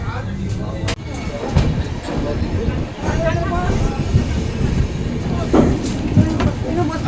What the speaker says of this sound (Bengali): আমাদের ট্রেন এইমাত্র ছাড়লো কলকাতা স্টেশন থেকে 11টা 45 মিনিটে